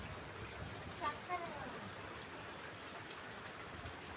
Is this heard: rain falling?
yes